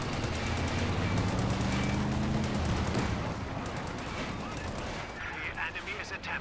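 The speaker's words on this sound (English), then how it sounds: "And here's that AT gun from Von Ivan." Anti-tank gun fire in the World War II strategy game Company of Heroes 2, heavy booming shots layered in a dense, loud battle din with continuous gunfire, easing into quieter scattered crackles near the end.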